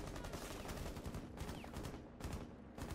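A light machine gun in Rainbow Six fires in loud, sustained automatic bursts with short pauses, the rattling rounds blending into a dense, continuous wall of gunfire.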